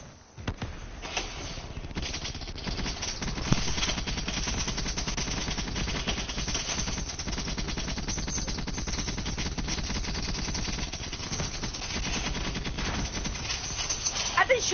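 Sustained video game gunfire on a multiplayer map, rapid machine-gun bursts crackling almost continuously with dense, overlapping shots at steady loudness for the whole stretch.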